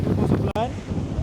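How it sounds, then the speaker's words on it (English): Strong wind buffeting the microphone while climbing Sigiriya rock in Sri Lanka, a loud steady rumbling roar throughout with a brief dropout midway and a voice faintly mixed in. "it's suddenly gotten really windy"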